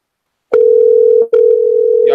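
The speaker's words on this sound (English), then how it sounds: "Y'all hear that phone ringing?" A phone ringing on a call-back system comes through as a loud, steady electronic tone that starts abruptly, breaks off briefly, then resumes; no voices.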